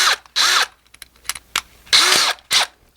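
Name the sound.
drill countersinking screw holes in a wooden shelf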